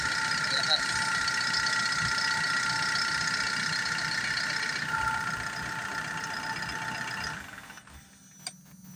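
A car engine idles close by with its number 4 fuel injector disconnected, a steady mechanical hum running beneath someone talking, then the sound drops away near the end.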